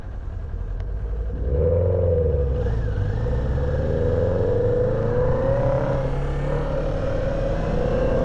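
A Kawasaki Ninja 400 just revived after long storage is ridden, its engine steady and close, building from a low idle into a sustained rumbling pull with gentle rises in revs, no voices.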